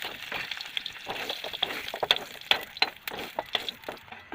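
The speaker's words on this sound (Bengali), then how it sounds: "ফুলকপিগুলো ভাজা হয়ে গেছে" Cauliflower florets frying in hot oil give a soft, steady sizzle with scattered crackles and small pops, fairly quiet and close.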